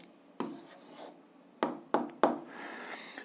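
Pen or chalk strokes as an answer is written out by hand in an algebra lesson, several short scratchy taps and rubs at irregular intervals, quiet and close with no talking.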